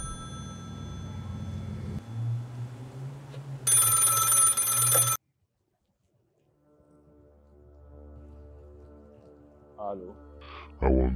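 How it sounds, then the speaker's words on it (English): A telephone rings in a dark, eerie drama scene, heard as a short bright burst among low droning tones. Silence follows, then faint tones return. "Why is the phone ringing?"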